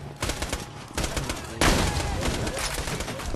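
Gunfire in the Borderlands 2 co-op shooter, with rapid dense bursts of automatic shots arriving in three loud waves, the last one heaviest, alongside a faint voice in the mix.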